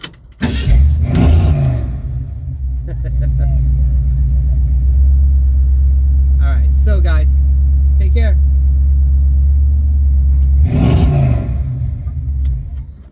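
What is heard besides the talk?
car engine starting and revving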